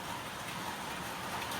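Rain falls outside at a farm, an even, faint hiss that stays constant throughout with no voices.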